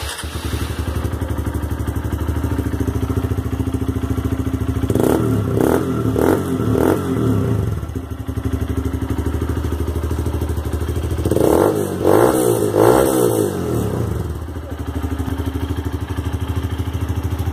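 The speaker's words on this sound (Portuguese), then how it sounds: "Escapes em TRS, roncando pra caralho." A 2015 Honda Titan 150 CBS motorcycle with a TRS Coyote exhaust idles loudly up close, then is revved twice in quick bursts of rising and falling engine roar, with a steady rumble between the blips.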